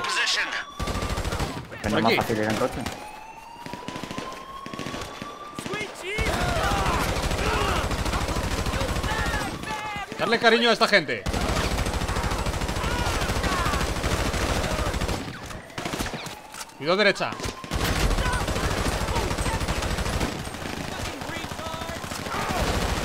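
Rapid gunfire bursts from a GTA V Online casino heist shootout, steady and loud through most of the stretch, with players talking excitedly over the shots.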